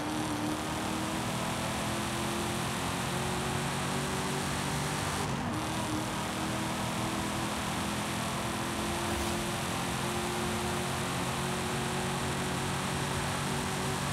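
A heavy Chevrolet ZR2 truck driving in Forza Horizon 5: a steady, sustained engine drone with a faintly climbing tone under broad road and wind noise, continuous throughout and without speech.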